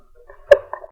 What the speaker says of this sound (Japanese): あ、くしゃみだ